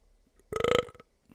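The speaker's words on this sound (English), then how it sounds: "I follow if you can burp." A single loud, rattling burp of about half a second breaks a near-silent stretch.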